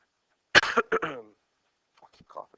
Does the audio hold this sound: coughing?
yes